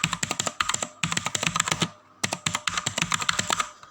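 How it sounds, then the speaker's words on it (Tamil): Fast typing on a Zebronics Nitro 1 mechanical keyboard, close and crisp, with rapid bursts of sharp key clicks separated by short pauses and no talk. "ஸோ வந்து இண்டிபெண்டன்ட் சயின்டிஸ்ட்னு டைப் பண்ணுறேன்."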